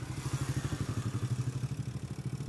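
A clothes dryer motor under repair gives off a low, pulsing hum with a steady rhythmic throb, close by and alone.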